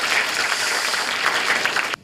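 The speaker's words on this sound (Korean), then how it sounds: "박수 한번 나와야죠" A crowd at a political talk show in Daegu applauds steadily for about two seconds, a dense wash of clapping that cuts off abruptly at the end, with no voices over it.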